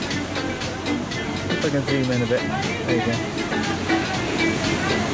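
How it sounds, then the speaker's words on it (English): Sea waves crash into a small bay near Torrevieja on Spain's Costa Blanca, a steady, loud surf roar with someone talking over it throughout. "A small bay with the sea coming in and crushing waves."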